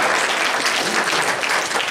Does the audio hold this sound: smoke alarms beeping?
no